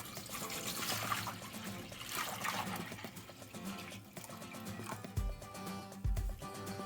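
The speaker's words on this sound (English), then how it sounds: "I'm going to pour some water into the pot." Water poured from a vessel into a cooking pot in a home kitchen while soya chunks are prepared, a steady trickling splash that runs under other continuous background sound, with a couple of low thuds near the end.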